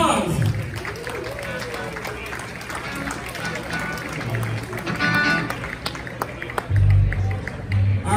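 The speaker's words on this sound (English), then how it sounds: "Give him a nice round of applause." An audience claps at a Midwest All Music Association Hall of Fame induction ceremony, a steady mass of applause filling the room with a few louder bursts near the end.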